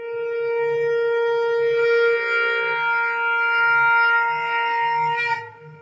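Indian bamboo flute played solo, one long steady breathy note moving into a higher sustained tone, close and clear, with a faint low drone beneath and no talking.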